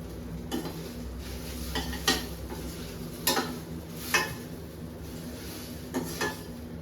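Okra (ladies' finger) palya frying in a pan in a village home kitchen, a steady soft sizzle with a few sharp scraping and stirring knocks of a utensil against the pan, fairly quiet and close.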